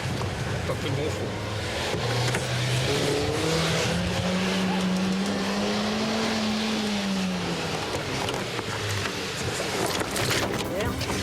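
Scooters race through a Lille neighbourhood street with whining engines rising and falling and a long drawn-out tyre squeal, loud and close, with voices mixed into the din.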